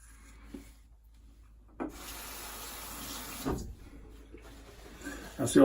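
A straight razor, a Bengall, is honed with repeated scraping strokes that rub in soft, uneven sweeps against a quiet room background, rising slightly louder near the end.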